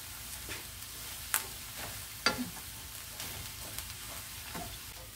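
King prawns grilling on a bed of salt make a soft, steady sizzle with scattered sharp pops and crackles, close by and fairly quiet.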